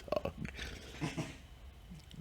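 A dog gives a few short snuffling, whining noises close by, followed by quieter shuffling in an indoor room.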